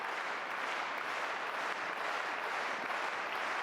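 Steady applause from a table tennis crowd after a long, well-constructed point in a men's singles semifinal at the German Open, a dense continuous patter of many hands held at an even level throughout.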